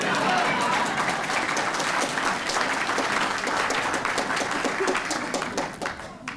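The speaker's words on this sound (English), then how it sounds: "You could clap." Audience applause at a talk by an Illinois state senator, dense, sustained clapping filling the room for several seconds before tapering off at the end.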